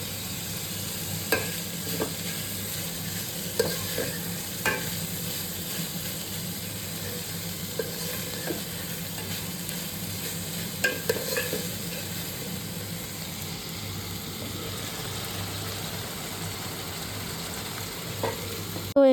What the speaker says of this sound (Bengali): তো তোমরা ভেজিটেবলগুলোকে ঘিয়ের মধ্যে ভালো করে ফ্রাই করে নিবে